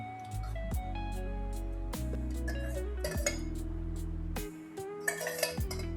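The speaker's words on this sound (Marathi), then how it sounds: "आता याला चांगलं मिक्स करून घ्यायचं आहे दहीमध्ये चिबूड" A spoon mixes fresh homemade curd with muskmelon in a bowl, giving close, steady clinks and scrapes with a few sharper knocks near the end.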